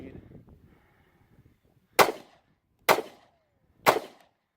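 Three sharp pistol shots from a Kimber Super Carry Ultra 1911 firing light reloads crack out about a second apart, loud and close, after some faint low talk at the start.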